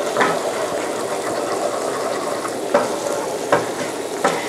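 Rice stir-fried over high heat for a green curry fried rice, a loud continuous sizzle with several distinct spatula strikes against the pan spaced about a second apart, close up and without speech.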